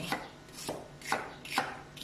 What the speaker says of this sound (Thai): แล้วก็หั่นหอมใหญ่